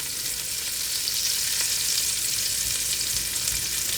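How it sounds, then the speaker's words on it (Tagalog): Crushed garlic and onion sautéing in extra oil in a pan give off a steady, close, even sizzle that holds unbroken throughout, with no talking. "At ilagay na natin kaagad dito yung bawang."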